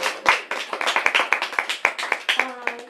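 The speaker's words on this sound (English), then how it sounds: "Let's give her a round of applause" A small audience at an evening mocktail book event claps for a guest, with sharp distinct hand claps in an irregular quick rhythm close by, and a brief voice near the end.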